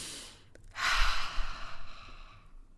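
Deep, slow breathing in a calm spoken setting: one long, soft exhale drawn out over about two seconds, close and alone, after a quiet intake.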